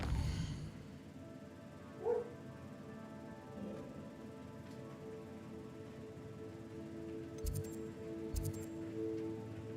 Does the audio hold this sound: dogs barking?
yes